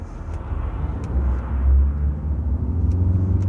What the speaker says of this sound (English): We'll see how good a car this is at being reversed, eh?